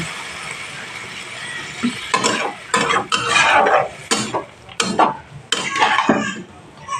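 Potatoes being stirred with water in a cooking pot for a potato chorchori, a close, busy series of scraping spoon strokes and wet clatters against the metal, irregular and fairly loud.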